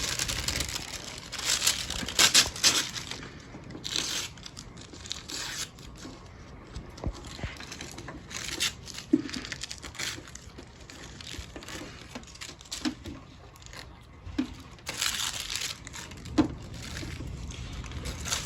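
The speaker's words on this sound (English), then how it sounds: "Let's go ahead and tear our tissue off." Tissue paper pattern is torn away from fabric in a series of quick, close rustling rips and crinkles, separated by brief quiet gaps.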